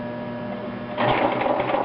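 A sewing machine stitches through pant fabric while hemming trousers. After a second of quiet room hum, a steady, close, moderately loud whirring of stitching starts and runs to the end.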